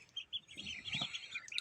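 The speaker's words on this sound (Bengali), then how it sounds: "এবং ক্যাম্বেল হাঁসের বাচ্চা ফুটে বাইর হয়েছে" Newly hatched Chinese ducklings from an incubator peeping, several thin high chirps in an irregular run, close and fairly faint, with no voices.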